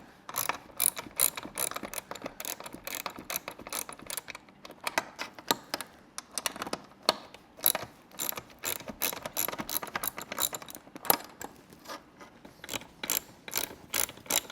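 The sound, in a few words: ratchet removing 10mm seat bolts on Tesla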